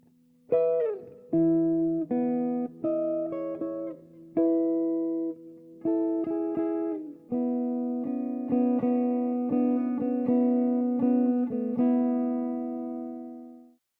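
Jazz guitar phrase, a string of clean, plucked single notes and short runs with small pauses between them, ending on a long ringing note that fades out, played alone and fairly quiet.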